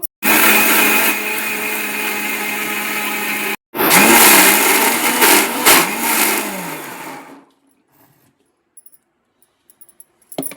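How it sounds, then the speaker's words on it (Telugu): A kitchen mixer grinder churns buffalo butter with water in its jar, a loud whirring motor that runs steadily, cuts off briefly, restarts with a shifting, labouring pitch, then stops and leaves near silence with a few faint knocks. "ఇప్పుడు మనం మిక్సీ జార్లో వేసుకుందాం."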